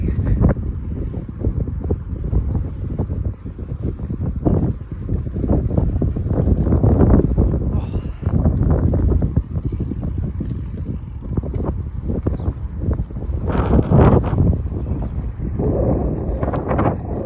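Gusty wind buffets the microphone with loud, continuous rumbling while someone rides a TR1 bike around Greenhill Park, the roar swelling and easing in waves with a few sharper bursts.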